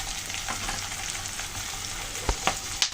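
Ginger paste goes into hot oil with green chillies for a tilapia curry, giving a steady close sizzle and frying hiss, then a few sharp spatula scrapes and stirs near the end.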